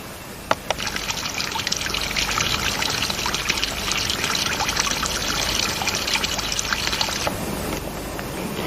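Water trickling and pouring steadily while a sample is collected from a muddy stream, a close continuous splashing flow with a small knock at the start.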